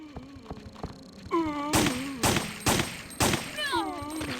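Gunfire in Resident Evil 3: Nemesis comes as four loud, sharp shots spaced about half a second apart, with a creature's wailing moans sounding before and after them.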